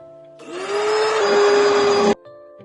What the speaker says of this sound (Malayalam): പിന്നെ ഒരു മിക്സർ ഗ്രൈൻഡർ എടുത്തിട്ട് തേങ്ങ ചിരകിയതും അതേപോലെ തന്നെ നല്ല ജീരകവും പിന്നെ ഉള്ളി എല്ലാം കൂടി ഇട്ട് നന്നായിട്ടൊന്ന് ഗ്രൈൻഡ് ചെയ്തെടുക്കുക